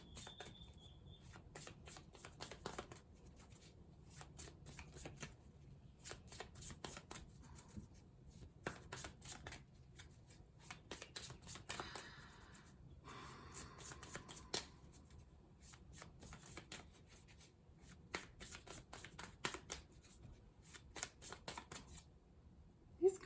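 Tarot cards being shuffled by hand, a long run of crisp repeated riffling flutters and slaps in irregular bursts, close but fairly soft, with occasional quiet speech between.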